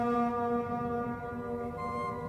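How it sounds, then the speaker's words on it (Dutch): A tugboat's horn sounds one soft, sustained toot, a steady tonal note held throughout at moderate volume with nothing else over it. "haalt hij adem en toetert een kleine, zachte, prachtige toet op zijn hoorn"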